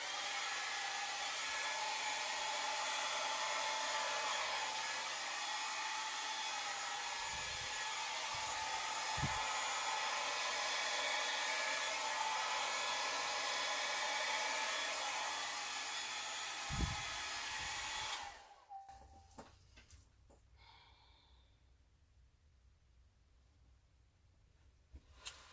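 Steady, loud rush of blown air, like a hair dryer, plays over a wet acrylic Dutch pour painting and cuts off abruptly near the end, leaving quiet room tone with a few faint knocks.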